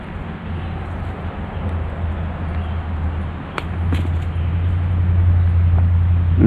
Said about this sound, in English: I can hear traffic here